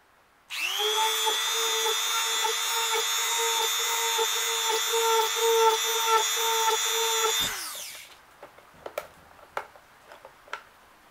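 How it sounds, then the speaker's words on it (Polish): A power drill bores into a plastic Ferrero box, whining loudly and steadily up close for about seven seconds before spinning down, followed by a few light clicks and taps. "Namoczymy to i zaczynamy wiercić."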